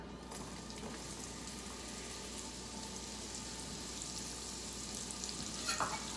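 Sliced vegetables fry in melted butter for shepherd's pie, making a constant soft sizzle and hiss with occasional stirring scrapes in the pan. The sound is fairly quiet and steady, with no talking.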